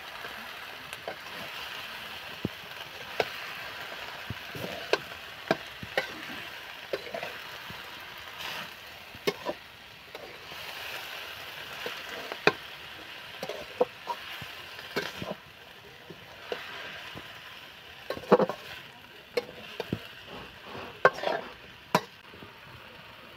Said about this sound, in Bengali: এবার আমি কুলেখাড়া শাকটা দিয়ে দেবো। দিয়ে আমি ভালো করে এইভাবে সুন্দর মতো করে কষিয়ে নেব।